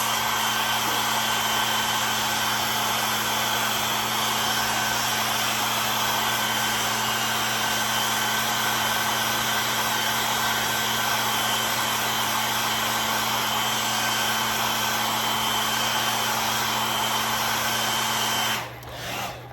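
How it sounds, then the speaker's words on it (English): A hair dryer blows steadily and loudly at close range to dry paint on a chunky wooden hen craft, a continuous whirring hum with a faint whine that runs nearly twenty seconds before cutting off. "Let's blow dry this right quick. Let's give it a little blast."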